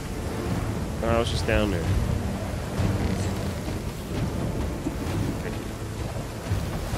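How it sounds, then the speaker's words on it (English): Steady rain pours onto a sailing ship in the pirate game Sea of Thieves, a continuous broadband hiss with low rumbles like distant thunder, running beneath people talking throughout. "because it's raining"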